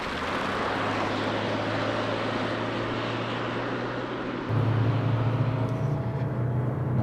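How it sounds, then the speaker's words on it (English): A Ford Ranger PHEV plug-in hybrid pickup climbs a steep 15.5% grade hill at full throttle, heard from inside as a steady low droning hum with road noise that steps up louder partway through. "I'm just going to pin the throttle here and we'll see how it feels going up the hill."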